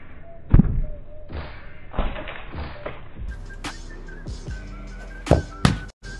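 A football struck in volleys gives a few sharp thumps spaced across several seconds, close and punchy against a quiet outdoor background.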